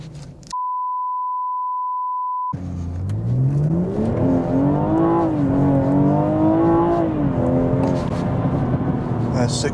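BMW M240i in Sport Plus launching from a standstill, preceded by a steady beep tone, then the engine revs loudly and climbs hard through a long rising pull with a brief shift dip, close and dominant.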